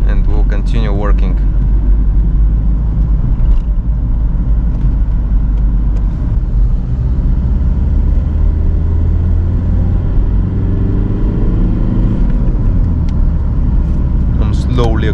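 A 1997 Volkswagen Passat B5 Variant with a 1.9 TDI 110 hp diesel drones steadily from inside the cabin while driving through the city, a constant low rumble rising slightly as it accelerates, with someone talking over it.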